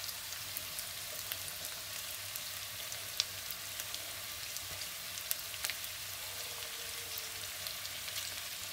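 Sweet corn and vegetables sizzle in a pan for Maggi noodles, a steady soft frying hiss with occasional small pops and crackles, close and uninterrupted.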